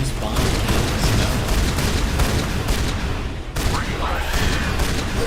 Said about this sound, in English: I didn't realize my shotgun was this fully automatic